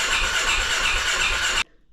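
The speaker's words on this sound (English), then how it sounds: "It'll crank but not start." A Polaris Ranger 570 utility vehicle engine cranks without catching, giving a loud, steady whirring crank that runs unbroken for about a second and a half, then cuts off abruptly into near silence.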